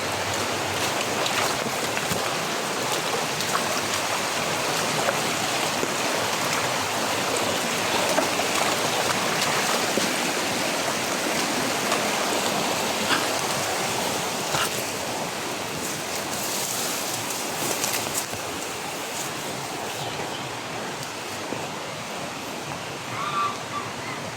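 Water rushes steadily through a passage among roots, a continuous broadband wash holding even and fairly loud from start to finish with no breaks, somewhat like surf or heavy rain.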